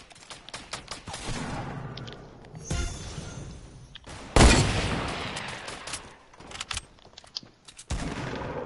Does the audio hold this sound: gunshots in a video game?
yes